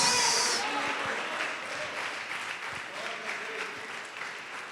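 A church congregation applauding at a worship service, dense steady clapping that begins loud and tapers gradually while a voice carries faintly over it.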